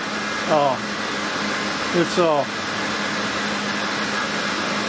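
A 2008 Ford F-150 with the 5.4-litre gas engine idling, giving a steady, even mid-pitched hum nearby, with a few brief squeaky chirps rising over it.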